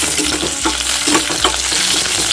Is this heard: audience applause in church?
no